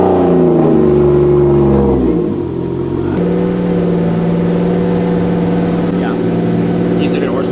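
A Ford Mustang fitted with a 2JZ engine drones loudly on a dyno, its tone sliding as revs drop and then holding steady, with voices talking over it.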